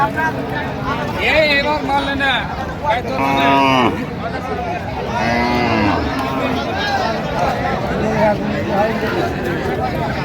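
Cows and calves at the Raniganj cattle market call out with several drawn-out moos over constant crowd chatter and nearby voices, the lowing rising clearly above the busy market hubbub.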